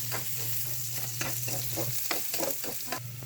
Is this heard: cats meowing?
no